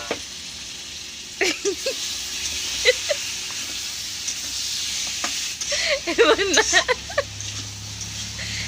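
Chicken pieces and fried potatoes sizzle in a hot pan, with bursts of scraping and clattering as they are stirred, over a steady background hiss.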